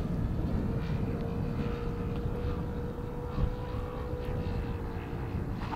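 A Blackhorse Chipmunk model airplane flies overhead, its engine a steady, fairly loud drone that holds throughout with slight swells and no voices.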